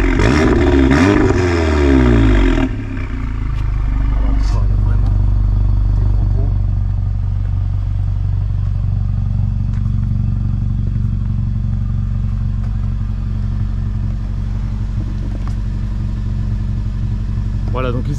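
Seat Leon Cupra R 400 hp stage 2 with its exhaust valve open, a deep steady engine rumble after a brief louder burst at the start, with a voice speaking briefly over it.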